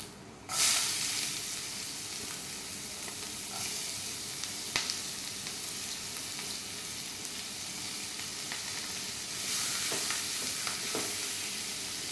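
Fennel and onion fry in a pan for sev kachodi, a loud steady close hiss of sizzling oil that starts abruptly and carries a few sharp stirring clicks, with no voices.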